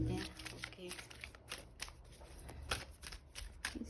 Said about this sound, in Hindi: इसके अलावा एक कार्ड और ले लेते हैं।